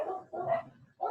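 Dogs bark in the background of an indoor conversation, two or three sharp barks in quick succession, moderately loud with no talk over them.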